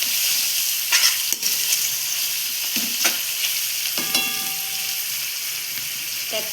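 Jackfruit biryani mixture with rice is stirred and sautéed in a pan, giving a steady sizzle and hiss with scraping spoon strokes and a few sharp clinks, close and continuous with no talking.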